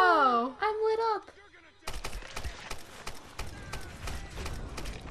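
Gunfire from Lara Croft in the video game Tomb Raider: after a short spoken line, a quick run of sharp, repeated shots crackles over mechanical game noise.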